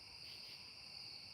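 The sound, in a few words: crickets chirping outdoors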